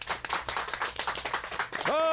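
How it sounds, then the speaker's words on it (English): Applause from a talk-show studio audience greeting a return from a break, a dense run of claps at a moderate distance that ends as a voice cuts in. "Can the guest applaud coming back from a segment?"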